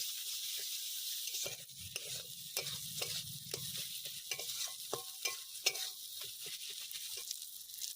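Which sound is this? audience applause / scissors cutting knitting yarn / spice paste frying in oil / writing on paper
spice paste frying in oil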